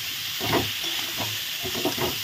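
Vegetables frying in a pan with turmeric are stirred in a few short scraping strokes over a steady soft sizzle, close up with no talking.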